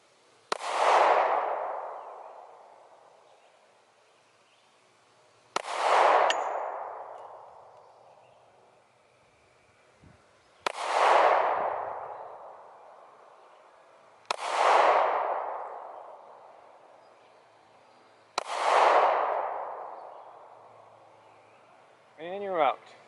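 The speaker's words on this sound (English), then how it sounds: "I just want you to go ahead and take some shots here." Five sharp pistol shots fired at a shooting range, each a loud close crack with a ringing tail, spaced about four to five seconds apart.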